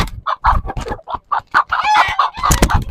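A Silkie rooster clucks in a run of short, choppy calls, close by, with brief gaps and a couple of longer drawn-out notes toward the end.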